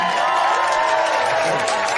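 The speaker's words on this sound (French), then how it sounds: "Et maintenant, on applaudit Blake" Audience at a comedy show cheering and applauding, a steady dense wash of claps and crowd noise with scattered whoops, sustained throughout.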